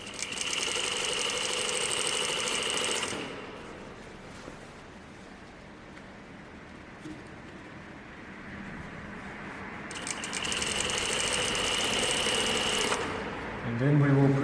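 A sewing machine stitches a shirt button stand in two loud bursts of rapid whirring, a quiet pause between them, with a person talking over the work.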